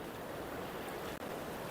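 Ocean waves roll onto a shore at a fishing spot, a steady broadband wash of surf with wind noise on the microphone, continuous and fairly even in level throughout.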